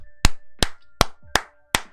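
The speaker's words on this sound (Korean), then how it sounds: "마지막으로 박수를 치면서 리뷰를 마치도록 하겠습니다" Five sharp hand claps ring out alone at a steady, unhurried pace, each one crisp, close and loud, with brief silence between them.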